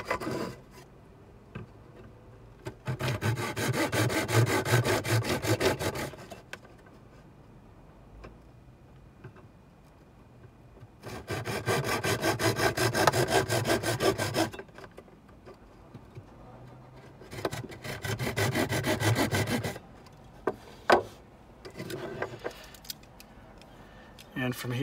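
A blade carving and cutting down plastic for a computer fan modification, heard as three long bursts of rasping, scraping strokes separated by quieter pauses, fairly close.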